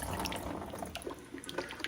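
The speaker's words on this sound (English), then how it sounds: "Let some of this excess water kind of go down." Water from an aquarium canister filter drains steadily after its top is removed, a continuous close trickle and splash with small irregular gurgles, no talking.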